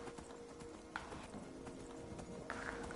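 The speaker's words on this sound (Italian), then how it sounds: "Ma va lento questo cavallo, è lento!" Horse hooves clip-clop in Skyrim, a steady walking rhythm of hoofbeats at low volume with a few sharper knocks along the way and no talk.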